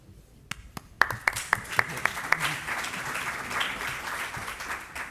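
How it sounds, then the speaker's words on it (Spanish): Brief burst of audience applause at a medical congress symposium, a run of distinct claps starting sharply and fading into a diffuse crowd wash. "le aplaudimos igual"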